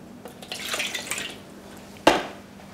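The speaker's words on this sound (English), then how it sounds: "a glass of water, half a glass of water," Half a glass of water poured into a roasting pan holding a chicken: a soft splashing trickle, quiet and close, ending with a sharp clink of glass against the pan, alone in the kitchen.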